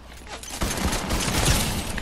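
A weapon firing in the video game Fortnite: a dense, loud burst of rapid shots begins after a brief quieter lead-in and carries on to the end.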